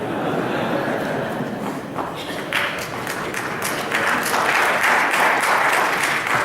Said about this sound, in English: please retain your applause until the end of the program